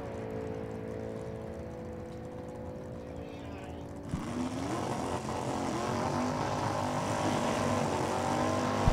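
A 1987 Camaro with an automatic transmission races down a drag strip, its engine a steady roar that swells into a louder, rougher run midway under continuous crowd and track noise.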